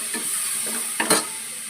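Ginger garlic paste and shallot paste sizzle in a pan with tomatoes, a steady close hiss broken by a couple of brief stirring scrapes, with no talking.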